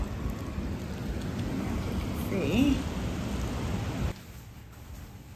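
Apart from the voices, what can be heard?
heavy rain storm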